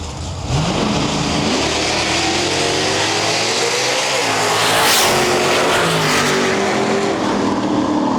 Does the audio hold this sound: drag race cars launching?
yes